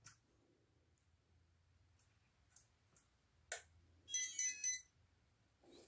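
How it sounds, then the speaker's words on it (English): A machine gives a short electronic beep when its switch is pressed, a bright tonal burst of three pulses after a few faint clicks, alone in a quiet room. "So that beep tells me that the machine is armed and ready to go"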